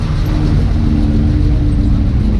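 A TVR sports car's engine rumbles steadily and close by at a New Year's Day street car meet, a loud continuous low drone with no clear rise or fall.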